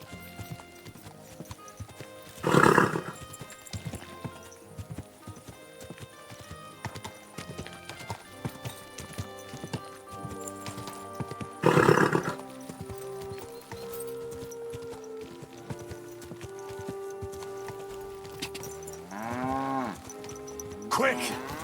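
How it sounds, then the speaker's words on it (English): Horse hooves clip-clop at a steady walking pace, with two sharp louder bursts that could be snorts or neighs and a rising-falling call near the end, all over a busy farm soundscape that also holds lowing cattle. "Easy, good horse."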